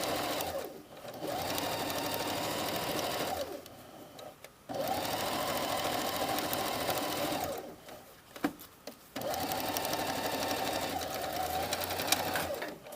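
Sewing machine stitching a curved princess seam on a jacket, running in three long steady bursts with brief pauses between, close and loud with no talking.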